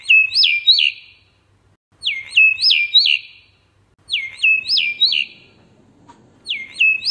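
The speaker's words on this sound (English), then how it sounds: "Myna." Myna bird calls repeat four times in quick bursts of two or three sharp, whistled rising notes each, loud and close with short silent gaps between.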